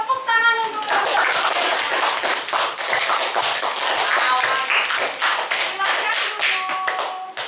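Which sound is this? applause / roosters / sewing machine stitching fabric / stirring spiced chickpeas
applause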